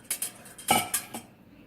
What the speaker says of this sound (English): you want to make sure you keep stirring it so that the flour doesn't stick to the bottom or burn